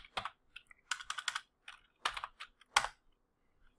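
Close, crisp typing on a computer keyboard, arriving in quick bursts of keystrokes with short pauses between them, and no talking.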